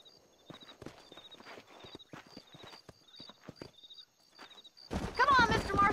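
Horse hooves in the Red Dead Redemption video game, a rapid steady clip-clop of several horses trotting at close range over roughly five seconds, followed by a sudden louder burst of mixed noise at the end.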